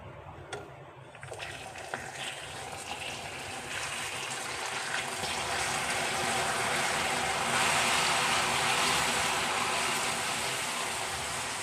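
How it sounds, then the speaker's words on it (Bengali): Water is poured slowly into a pan of cauliflower laddu mixture on low heat, making a steady rushing, bubbling hiss that builds gradually and stays close, with no talking. "এইবার আমি এখানে গ্যাস কমিয়ে কিন্তু আস্তে আস্তে এটার মধ্যে জল দেবো"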